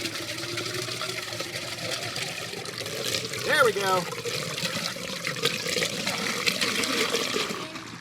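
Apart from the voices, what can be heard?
water gushing out of an RV gray tank drain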